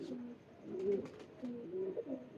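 High-flying pigeons coo softly nearby, several rolling throaty calls in two short bursts with a quiet pause between them, and no one speaking.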